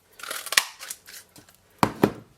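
A Stampin' Up Elegant punch snaps through silver glimmer paper and silver foil to cut butterflies, making several sharp crisp clicks and crunches with short pauses between them, close and quiet.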